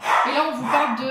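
A dog barks in the background while a person keeps talking in French over it, the barks partly masked by the steady voice.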